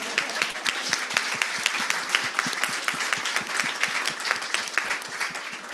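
An audience at a conference on the ICJ climate ruling applauds, a dense, steady round of many hands clapping close by, sustained evenly throughout with no voices over it.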